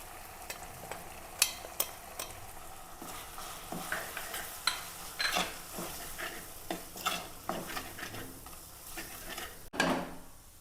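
Coriander, Kashmiri chilli and turmeric powders frying with onions for a fish curry, stirred in a pan: repeated close scraping strokes and light taps over a faint, continuous sizzle, with a sharper clack near the end.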